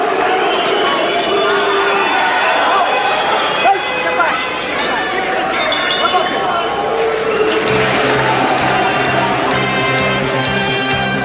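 A large crowd at a boxing fight between Naseem Hamed and Laureano Padilla roars and murmurs throughout, a loud, steady wall of arena noise with swells of cheering and a commentator's voice over it.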